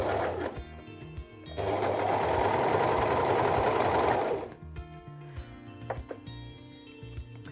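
An overlock serger runs in a steady, loud mechanical whir for about four seconds, with softer clicks and handling sounds before and after.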